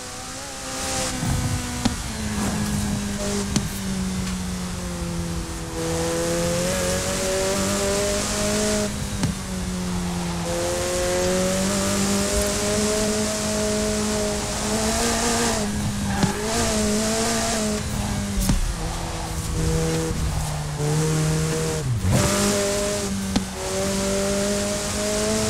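McLaren Speedtail hypercar in a Forza Horizon 4 race, its engine droning loudly and continuously with rising and falling revs through gear changes, plus occasional tire squeals.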